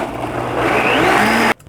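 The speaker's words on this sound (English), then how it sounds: "And then I'm going to blend them." A blender whirs loudly as it blends oats, its motor whine climbing in pitch as it spins up, then it cuts off abruptly near the end of the clip.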